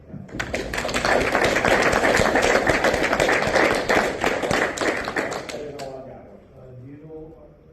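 A room of people at a Freemason meeting breaks into loud, dense applause for a fellow captain, sustained for several seconds before fading as a voice begins speaking.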